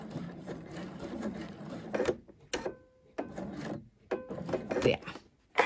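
Sewing machine stitching a welt pocket in short, faint bursts of mechanical chatter, separated by pauses and soft rubbing of fabric being turned and handled.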